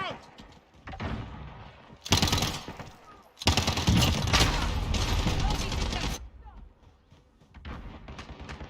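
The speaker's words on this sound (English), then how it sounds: "Flashbang out!" Call of Duty multiplayer firefight with a flashbang grenade and gunfire: dense bursts of rapid shots and blasts come in loud waves between brief lulls, while game voice callouts sound underneath.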